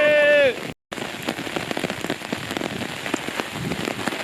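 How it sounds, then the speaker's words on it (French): Heavy rain pours steadily on a surface in a dense, continuous patter, loud and close, with a short burst of another sound at the very start and a brief dropout before the downpour continues. "Il pleut de fou, c'est incroyable."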